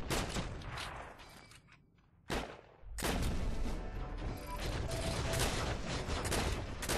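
Dense battlefield gunfire from the World War II shooter Heroes & Generals, continuous crackling volleys that thin out briefly before a sharp blast and a renewed heavy barrage.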